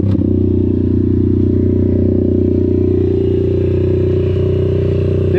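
A 125 RS Factory motorcycle engine idles close by, a loud, steady buzzing drone with a constant low throb and no revving, running alone without talk.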